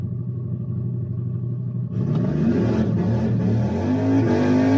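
A Ford Mustang Mach E launches hard down an eighth-mile drag strip, a steady low electric rumble swelling abruptly into a loud, rising whine of acceleration that builds continuously to the end, with no voices.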